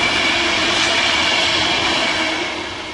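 A long train rushes past nearby, a loud continuous rumble and rattle of carriages that holds steady and then begins to fade, with no voices.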